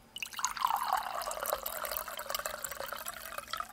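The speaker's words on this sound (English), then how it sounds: "He turned the tap and began pouring the ale into a mug." Homemade brown ale pours from a keg tap into a mug, a close gurgling, splashing trickle with bubbly drips that runs steadily for several seconds, with no voices.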